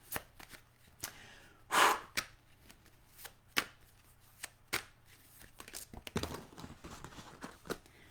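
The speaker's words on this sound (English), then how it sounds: "I'm going to take these and shuffle them" Celtic Dragon tarot cards being shuffled in a series of brisk riffles and slaps, close by and fairly quiet, with one louder burst of flicking cards among softer taps and no talking.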